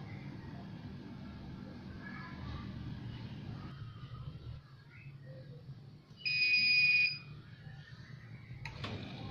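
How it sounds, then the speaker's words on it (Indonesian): A single short electronic beep from a Sharp bottom-loading water dispenser, plugged into an adapter, rings out over a low background hum, brief and sharp. "terdengar suara beep saat dicolokkan ke adaptor"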